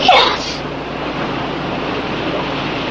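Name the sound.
ocean waves crashing in a sea cave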